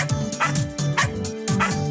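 A puppy dog barks and yips in short bursts, four quick yelping barks in an even rhythm, close and clear with no talk.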